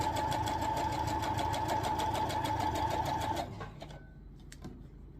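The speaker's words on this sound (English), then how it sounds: "And sew these together, always 1/4 inch seam allowance." A sewing machine runs steadily, stitching jelly roll quilt strips together with a quarter-inch seam, a loud continuous mechanical whir that stops abruptly near the end, leaving faint handling clicks.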